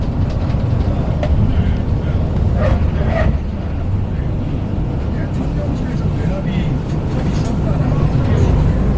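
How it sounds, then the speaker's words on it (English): An express bus driving in a dedicated bus lane through Seoul: a loud, constant low engine and road rumble fills the cabin, with occasional faint clicks and rattles over it. "Traveling in dedicated bus lanes right now."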